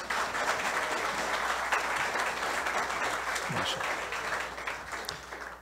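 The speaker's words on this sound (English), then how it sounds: "Now give them a set of applause as well." Audience applause at a community religious gathering celebrating the Prophet's birth, with steady dense clapping filling the room for several seconds and faint voices mixed in.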